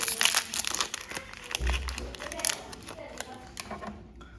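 Plastic seal on an HP ink bottle for an HP Smart Tank printer being torn and crinkled open by hand, close and fairly loud in quick crackling bursts, with voices talking over it.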